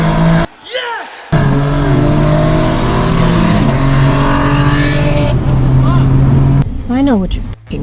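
A tuned BMW G87 M2 and a big-turbo Toyota Supra accelerating hard side by side from a rolling start, engines loud and near with sustained rising revs and gear changes, and voices shouting briefly before and after the pull.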